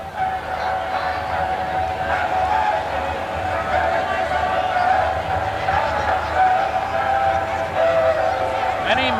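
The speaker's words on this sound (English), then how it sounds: "the local Kiwanis train." A loud sustained whistle-like tone from the local Kiwanis parade train drones over rumbling crowd noise at a Halloween parade in Rutland City, with talking and commotion mixed in throughout.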